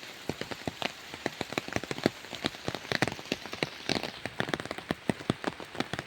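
Heavy rain pouring steadily, with dense pattering and sharp drips striking a nearby surface throughout, no voices.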